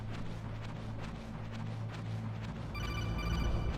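A phone-like electronic ringing from the Metal Gear Solid video game cuts in near the end, a bright, steady pulsing ring that rises over a low, rumbling in-game ambience, with no talking.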